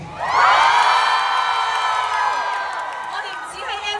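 A large crowd at a children's charity marathon cheers, whoops and shouts loudly, a sustained swell of voices rising quickly and holding for several seconds before easing slightly.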